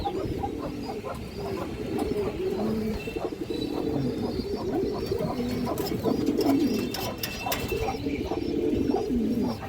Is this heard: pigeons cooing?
yes